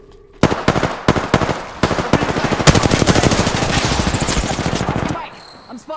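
Rapid automatic gunfire from a firefight in the battle royale shooter Apex Legends, loud bursts of close shots building into a continuous rattle before cutting off into quiet.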